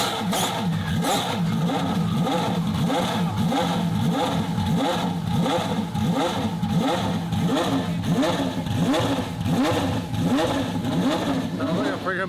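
A 1500 hp twin-turbo Ferrari F12 V12 engine revs repeatedly in rising, rhythmic bursts, loud and close, with people talking over it throughout.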